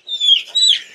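Egyptian Fayoumi chickens on a farm give two short, high-pitched clucking calls in quick succession, close and fairly loud, with no talking.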